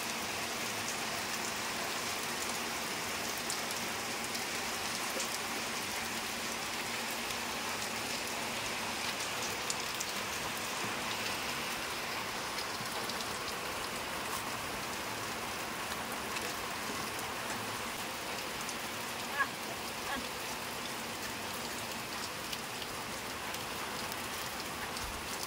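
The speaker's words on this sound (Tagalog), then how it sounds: "Yan, ang inabutan ng ulan." Steady rain pours down in a continuous even hiss, pattering on surfaces nearby at an outdoor cooking site, with no voices.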